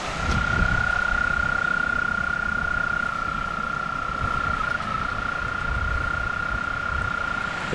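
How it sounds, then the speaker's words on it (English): Big toads mating in a pond, near a gorge trail in Ithaca, give a continuous high, steady trill for the whole stretch over a rough bed of wind noise. "This entire pond is filled with big toads."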